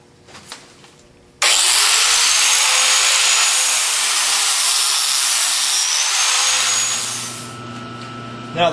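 An angle grinder chamfers the end of a steel control arm tube for a Chevrolet S10, starting abruptly with a loud, steady high-pitched grind for about five seconds. It then eases off and winds down.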